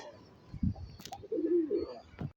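Caged pigeons give soft, low coos up close, a few short calls with quiet gaps and faint rustling around them.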